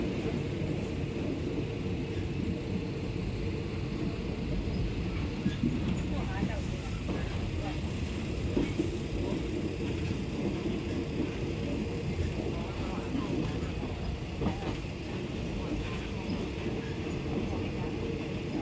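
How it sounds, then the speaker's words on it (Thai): Steady low rumble and rattle of a fan-cooled third-class train carriage in motion in Thailand, heading to Sisaket, with a constant clatter and wind noise throughout, voices faintly mixed in. "บรรยากาศการนั่งรถไฟชั้น 3 นะครับชั้นปกตินะครับเป็นชั้นพัดลมนะครับ"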